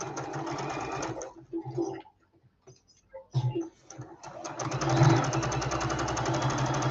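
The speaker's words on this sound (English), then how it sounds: "take that back to the sewing machine" A domestic sewing machine stitching fabric in steady rapid whirring bursts, stopping briefly in the middle for a few soft handling clicks, then running again loudly and continuously up close.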